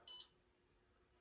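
A pottery kiln's digital controller gives a short, shrill electronic beep once a glaze firing completes its 10-minute hold at 2214, a single bright tone that fades into quiet room hum.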